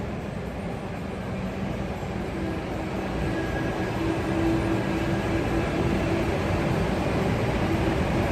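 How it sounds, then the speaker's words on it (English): A Disneyland tram rumbles past, its steady low mechanical drone swelling gradually louder over several seconds as it nears, with no talking. "And that might be our next tram."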